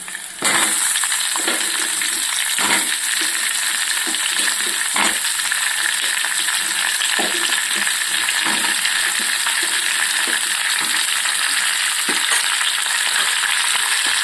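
Onions and chana dal frying in a pan, giving a loud, continuous close sizzle with occasional stirring clicks and taps throughout.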